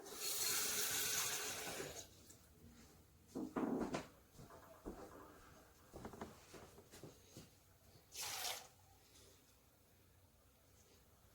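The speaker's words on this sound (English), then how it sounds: "Let me get some water." Water runs from a kitchen tap for about two seconds while preparing an Instant Pot meal, followed by short bursts of splashing, clinks and handling noises nearby, with no talking.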